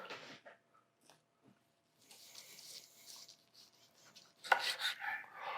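Quiet knife scraping and slicing through cooked medium-rare beef tenderloin on a board, a few soft cuts followed by a louder clattering burst of utensil contact near the end.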